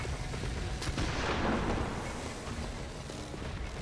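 Enemy gunfire in the Bloodborne Lower Pthumerian area booms in a dull burst amid a dense, rumbling wash of game noise and ambience.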